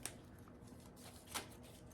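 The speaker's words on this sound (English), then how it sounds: "these cards are like really hard to shuffle because of the shape" Oracle cards of an awkward shape are shuffled in two crisp riffles, one at the start and one later, quiet and close with a soft hiss between.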